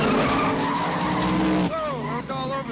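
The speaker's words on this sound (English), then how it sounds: "You're trying to enter the corner and you're spinning out." RC oval pan car tires skidding and squealing as the car spins out entering a corner, a continuous loud screech with a sharp pitch-bending squeal near the end, with speech over it.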